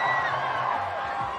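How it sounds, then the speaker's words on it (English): The Tifosi crowd at the Monza Grand Prix cheering for Carlos Sainz, a broad, steady roar of distant voices with whoops rising over it for a brief moment. "You'll be able to hear a cheer in a second."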